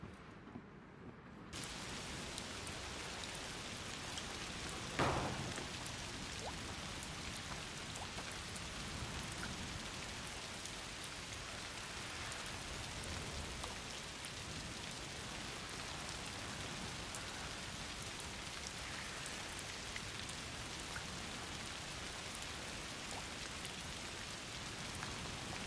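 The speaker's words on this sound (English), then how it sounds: "Foul rain." Steady rain pours down in A Plague Tale: Requiem, a dense, even hiss of falling water that fills the whole stretch, with one brief sharper splash or crack early on and no voices.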